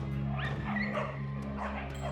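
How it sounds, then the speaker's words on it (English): Stray dogs at a landfill give short yips and whimpering cries over a steady low hum, the calls scattered and moderately faint. "large populations of stray dogs live, eat, and battle for the mountains of food at landfills and dumps"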